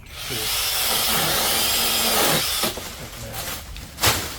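A cordless 8-inch chainsaw whines loudly through a wooden branch for a couple of seconds, then gives way to scattered clunks and bumps as the cut finishes.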